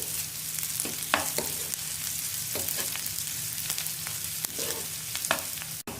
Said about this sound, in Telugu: ఇవన్నీ పచ్చివాసన పోయే వరకు వేయించుకోవాలండి. ఎర్రగడ్డలు ఎర్రగా వేగాలి.